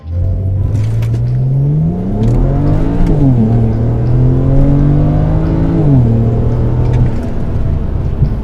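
A tuned BMW 335i with the N54 twin-turbo engine accelerates hard, its loud, steady engine drone climbing in pitch, then dropping sharply at two quick gear shifts before building again, heard from inside the car with no talking.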